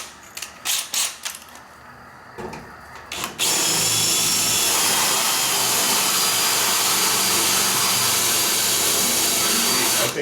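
A power drill runs steadily and loudly with a 1/4 inch bit, preceded by a few short starts and stops before settling into continuous grinding drilling.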